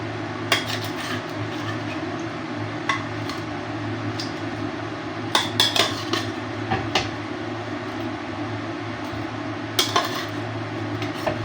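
Shrimp tipped into a pot of sinigang na hipon, a Filipino sour soup with tomato: scattered sharp metallic clinks and clatters against the pot over a constant low kitchen hum, with no talking.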